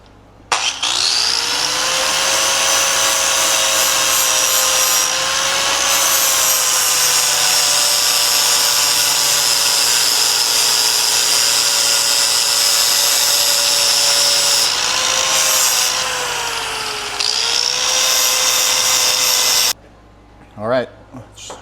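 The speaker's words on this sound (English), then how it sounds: "I actually might grind down the tang a little more" A power grinder shrieks steadily against the steel tang of a dagger forged from a horseshoe rasp, loud and close, with pitch dips as pressure changes, then cuts out near the end.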